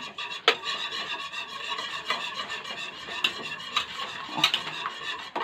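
A spoon scrapes and stirs spiced chicken pané coating around a bowl in repeated strokes, with occasional sharper clinks against the side, close up and with no talking.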